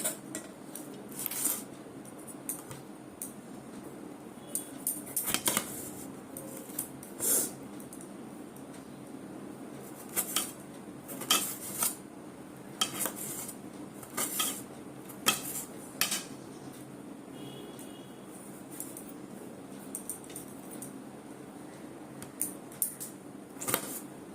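A knife cuts a tomato in a home kitchen, making a run of light taps and clinks against a board or plate, scattered and fairly soft, with a steady room background and no talk.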